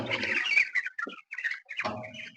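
A dense chorus of about 1,500 broiler chickens on a poultry farm cheeping and chirping close by, coming in overlapping bursts with short gaps between them.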